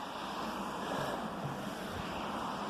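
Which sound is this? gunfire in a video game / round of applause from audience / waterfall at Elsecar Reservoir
waterfall at Elsecar Reservoir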